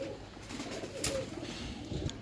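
A golden high flyer pigeon gives a soft, faint coo close by, a brief low murmur against quiet outdoor background noise.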